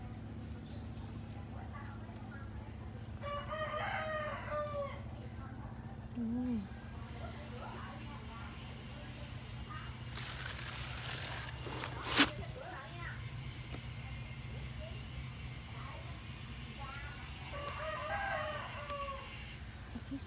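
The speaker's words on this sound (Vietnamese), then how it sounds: "Phía sau nhà nuôi gà." Chickens kept behind a rural house, with a rooster crowing twice at a distance over a steady bed of insects and low background noise, plus a brief sharp knock midway.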